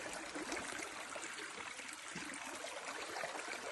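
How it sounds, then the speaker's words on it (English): A small stream runs down toward a lake beside a backcountry campsite, a steady broadband burble and trickle of water close by with no voices. "we are right next to this beautiful stream that runs down into the lake"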